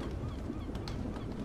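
A crow caws indoors inside a house in the horror game Wounded: a short, harsh, honking call heard close, over a dull background hum.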